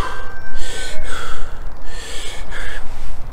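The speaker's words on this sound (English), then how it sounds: "Take 3 quick breaths again." Three quick forceful breaths taken during a weight-training set, sharp gasping inhales and exhales in a steady rhythm, close and fairly loud with no talking.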